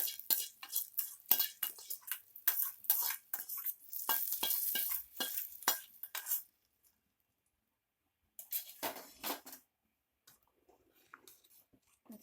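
Tempering spices dropped into hot oil and stirred for a sambar, with bursts of crackling sizzle and clinks of a spoon against the pan for about six seconds, then a pause and a shorter burst, close up.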